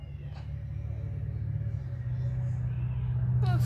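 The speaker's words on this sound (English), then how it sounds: "This car is going the other way." A car passing close by, a low engine rumble swelling steadily louder toward the end, with a brief high cat-like cry at the finish.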